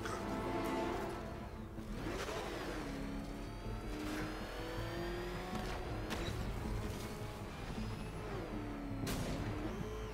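A Batmobile engine roars in the video game Batman Arkham Knight, a continuous driving drone with repeated rising and falling revs and sharp bursts, heard loud and alone without talk.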